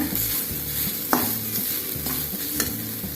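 Grated coconut fries in a pan for beetroot rice, a steady soft sizzle under repeated scraping strokes of a spoon stirring it, close and moderately loud with no voices.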